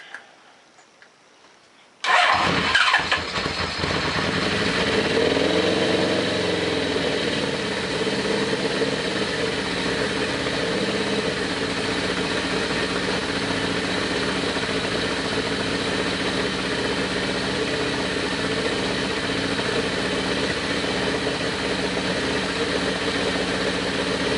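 A Suzuki GS850 motorcycle that has sat outside for over ten years cranks briefly and then fires up, settling into a loud, steady, close-up idle that continues to the end.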